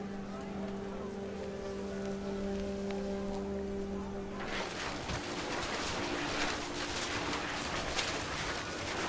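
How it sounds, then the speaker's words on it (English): Heavy rain in the video game What Remains of Edith Finch starts about halfway through as a sudden, dense, loud downpour. Before it begins, softer ambience with cooing pigeons and a low engine-like hum plays. "The rain came down in buckets then"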